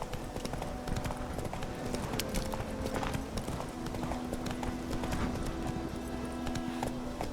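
Roach the horse gallops in The Witcher 3 video game, a fast, steady clip-clop of hooves running without pause over a constant background.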